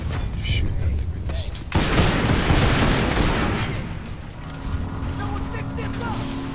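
Gunfire and explosive booms in the video game Planetside 2 form a dense, continuous rumble of fusillade and mechanical noise, with excited players talking over the battle.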